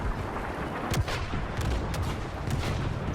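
A homing shot weapon in a video game fires in several sharp, booming bursts over a few seconds against a dense background of game noise, with no one speaking.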